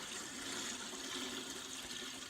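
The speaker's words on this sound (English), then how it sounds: "I will now pour a little water in here." Water is poured into a car wash bucket fitted with a grit guard, a continuous soft splashing trickle at moderate volume with no voices.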